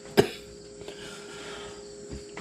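One short, sharp cough from a person in a home kitchen while supper is being cooked, followed by quiet room noise.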